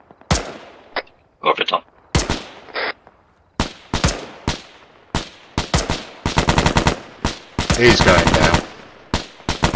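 Bursts of video-game gunfire, sharp automatic volleys and single shots cracking loud and close in rapid clusters, while players talk over the shooting.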